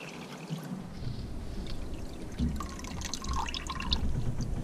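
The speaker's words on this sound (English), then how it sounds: "I'm just transferring it into the second bucket, filtering it through a t-shirt so that it strains out all of the gunk" Fresh water is poured from one bucket into a second bucket through a t-shirt strainer aboard a boat, with gurgling pours, drips and splashes that swell and fade over a few seconds.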